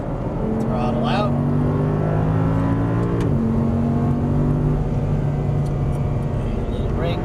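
An Audi R8's engine roars close and loud on a race track, pitch rising through the gears with a shift and drop midway, while an instructor talks over the noise.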